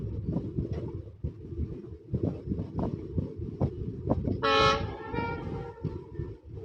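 Gandhigram to Botad passenger train running on rails, a steady rumbling clatter of wheels over track joints, with a short, loud horn toot partway through.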